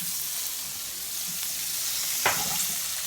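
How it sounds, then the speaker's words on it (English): Chopped yellow onions sizzle in a hot frying pan for Spanish rice, a steady close hiss of frying with a brief clatter of stirring partway through. "So I'm going to put these onions in there."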